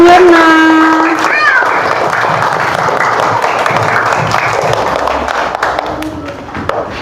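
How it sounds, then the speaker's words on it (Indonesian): Classroom applause from children for a student's group presentation, scattered clapping that rises and holds under children's voices, after a brief sung or spoken tone at the start. "Tepuk tangan untuk temanmu Yuna."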